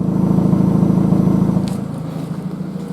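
Engine of a Mazda 3 hatchback with new mods, heard from behind the car at the exhaust, a steady low drone that softens slightly partway through, alone without voices.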